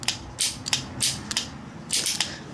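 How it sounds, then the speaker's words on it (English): Aprilia RS125 (1998) power valve part clipping into place, heard as a handful of short, sharp plastic clicks spread across a couple of seconds, close and fairly distinct over a quiet background. "You want to get your red piece, and you should hear a little clicking noise."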